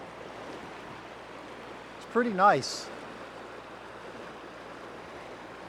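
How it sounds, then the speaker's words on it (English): A mountain creek running beside Interstate 90 in Idaho gives a steady, even rush of flowing water throughout, with a voice speaking briefly over it. "This creek here runs all the way through the mountains and the river follows it all the way."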